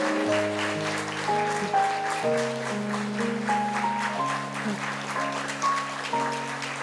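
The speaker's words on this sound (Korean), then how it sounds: "꽃다발을 전달할 때 큰 박수로 축하해 주시면" Church congregation applauding during a flower bouquet presentation at a Sunday service, with sustained clapping under a steady instrumental or organ chord accompaniment that changes notes every second or two.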